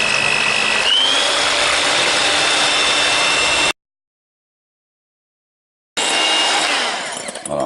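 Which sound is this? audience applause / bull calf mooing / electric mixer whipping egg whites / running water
electric mixer whipping egg whites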